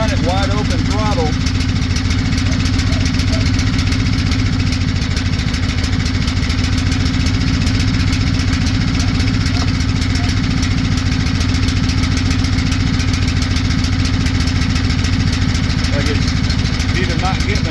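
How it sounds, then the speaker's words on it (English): Small engine fitted with a cheap Chinese carburetor from Amazon, running steadily at wide-open throttle with a constant buzzy rattle and slight unevenness, loud and close throughout. "You're trying to run it wide open throttle."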